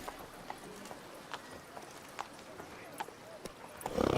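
Roach, a horse in The Witcher 3, trots with a steady clip-clop of hooves, sharp regular strikes ringing out above faint ambient noise, building to a louder rush of movement at the very end.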